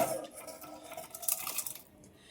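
Cooked lentils scooped into a pressure cooker for a Brahmin-style saaru: metal spoon and pot clinking and scraping in a steady clatter, close and moderately loud.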